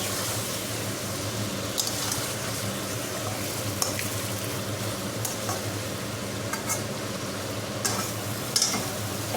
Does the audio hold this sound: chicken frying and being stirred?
yes